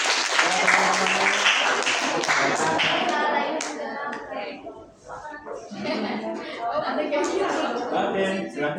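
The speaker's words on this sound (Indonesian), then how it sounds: "Beri tepuk tangan dulu buat Siva dan teman-teman." A classroom gives a student group brief applause, a short burst of clapping from several people up close, then a teacher speaks over scattered claps as they fade.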